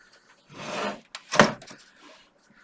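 Metal case of an IBM PS/2 Model 70 386 computer being slid off, a close scraping slide followed by a sharp knock and a short rattle, then quiet.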